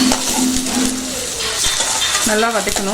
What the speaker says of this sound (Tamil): வெங்காயம் போட்டு நல்லா வதக்கியாச்சு. நல்லா ஃப்ரை ஆயிடுச்சு.